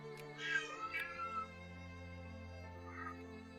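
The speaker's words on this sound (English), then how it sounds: "Cats just started screaming very loudly" Cats yowl and scream in a few short, drawn-out cries over a steady humming background, fairly faint and somewhat distant.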